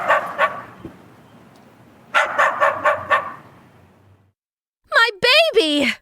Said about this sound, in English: we heard a distant bark